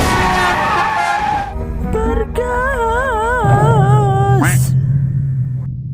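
A vehicle's tires skid and squeal in a cartoonish sequence of rising, wavering tones followed by a brief sharp burst, with low engine rumble and some voice underneath.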